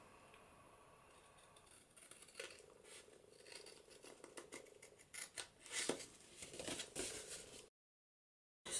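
Scissors cutting through paper close by, a series of soft snips and crisp rustles that grow louder toward the end before a brief silence.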